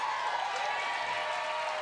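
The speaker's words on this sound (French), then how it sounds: "On applaudit ça." Brief, faint applause rolls through a comedy show audience, an even wash of clapping with no voices standing out.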